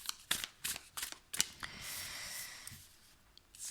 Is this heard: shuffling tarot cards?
yes